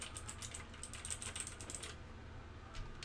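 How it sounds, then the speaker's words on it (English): Rapid clicking keystrokes on a computer keyboard, a steady patter of soft taps for about two seconds before trailing off, faint and close over a low background hum. "I promise you that my keyboard will be louder."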